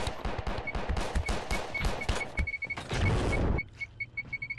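Rapid bursts of pistol gunfire crackle through a Space Station 14 round, dense repeated shots for several seconds before cutting off to quieter mechanical beeping.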